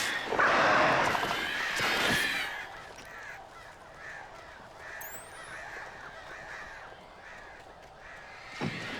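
Crows cawing in the video game Alan Wake Remastered, a loud burst of harsh caws up front, then scattered fainter calls over a low rushing ambience, with a final sharp caw near the end.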